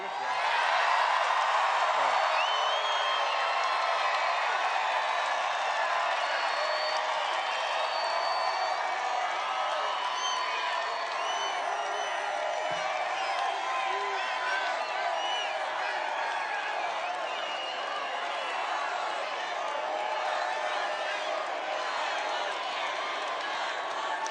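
A large outdoor campaign rally crowd in Minden, Nevada cheers, whoops and applauds in a steady, dense roar that holds for over twenty seconds, loud and continuous with no single voice standing out.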